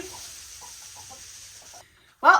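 Backyard chickens and a rooster in a new winter coop make soft, scattered clucks at close range, ending in one loud, sharp squawk.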